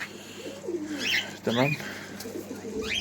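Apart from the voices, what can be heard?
birds at a pet bird and fish seller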